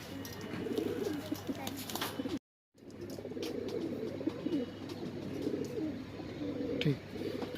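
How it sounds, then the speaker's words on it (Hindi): Green Madrasi pigeons with pale eyes coo in soft, repeated low phrases, broken by a brief silent gap, with occasional faint background noises around them. "ये वो हरा जोड़ा है जो गेरी आँख के जो हरे कबूतर दिखाए थे आपको, मद्रासी कबूतर है ये भी।"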